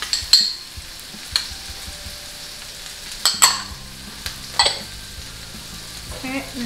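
Tomato paste is stirred into short ribs frying in a pot for a red wine braise, giving a low, steady background sizzle punctuated by several sharp scrapes and clanks of the spoon against the pan.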